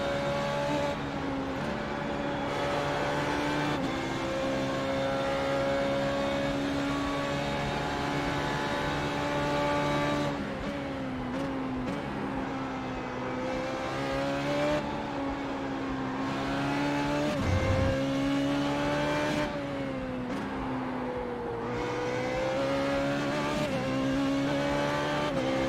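Formula 3.5 race car lapping Spa Francorchamps in iRacing, its engine held at a high whine that rises and falls through gear changes, with occasional tyre squeal and no talk.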